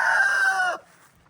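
A rooster crows once, loud and near, among hens at a hobby farm, the call breaking off abruptly and leaving faint quiet barnyard background.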